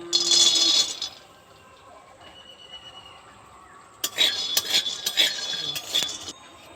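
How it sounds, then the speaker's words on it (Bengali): Raw peanuts dry-roasting in a wok over a lit stove, with sharp clinking, crackling bursts clustered in the second half after a quieter stretch, close by, with no talking. "বাদামটা ফটফট করে ফাটতে শুরু করেছে"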